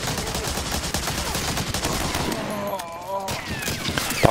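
Gunfire in the World War II shooter Medal of Honor: Allied Assault, with rapid overlapping shots and bursts of fire that continue densely throughout amid battle noise.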